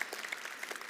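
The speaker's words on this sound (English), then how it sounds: "give her a round of applause." Brief burst of audience applause at a live training seminar: a dense, even patter of many hands clapping, moderately quiet and steady for about a second with no voices standing out.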